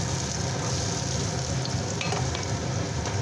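Onions fry in oil in a pan with a dense, continuous sizzle that stays loud and even throughout, with no voices.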